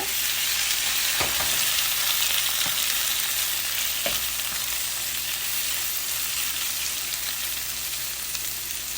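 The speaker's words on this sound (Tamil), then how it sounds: "இதுக்குள்ள நான் வெஜ்ஜி மிக்ஸை போட்டு வதங்க விட போகிறேன்" A vegetable mix with onions sautéing in a pan gives a dense, steady sizzle close by, with a couple of brief stirring knocks and no talk.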